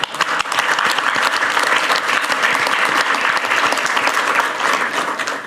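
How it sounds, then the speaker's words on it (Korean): An audience at a shipbuilding industry meeting with the president in Ulsan breaks into hearty applause, dense and continuous clapping that stays loud throughout with no talk over it. "박수 한번 치면 어떨까?"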